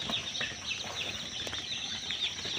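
Day-old chicks in a poultry farm brooder, a dense continuous chorus of high peeping cheeps from many birds close by, with faint rustling underneath.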